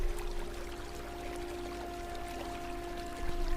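River water flows in a continuous rushing, pouring stream at moderate loudness, with a steady faint tone running underneath and no talk over it.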